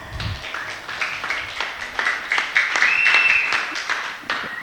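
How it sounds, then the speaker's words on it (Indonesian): Students in a classroom session on healthy teenagers clap for a classmate named Nabila, a short burst of dense, close applause that builds and then thins out. "Tepuk tangan buat Nabila."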